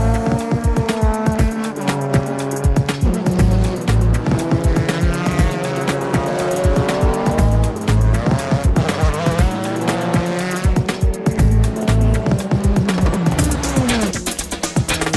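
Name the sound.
race cars sliding with tires squealing, JGTC racing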